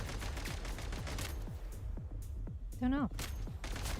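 Enemies fire rapid, repeated gunshots in the Genshin Impact video game, a steady crackling burst of shots with a short gap, while a voice speaks briefly near the end.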